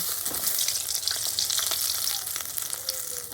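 Parshe fish frying in oil in a kadai, a dense continuous sizzle with faint crackles and occasional stirring scrapes, close and alone without any talk.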